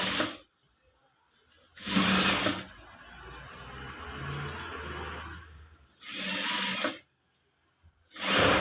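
Sewing machine stitching piping onto fabric for a blouse, running in three loud bursts of steady whirring, with a quieter rumbling stretch between the first two runs.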